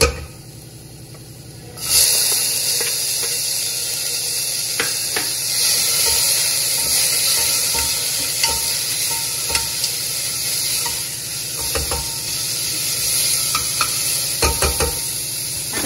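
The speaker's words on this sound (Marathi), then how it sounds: "आता टोमॅटो घालून घेऊया।" Tomatoes hit a pan of sautéed onion and grated ginger, letting out a loud burst of sizzling that holds steady, with scattered clinks and scrapes of stirring up close and no voices.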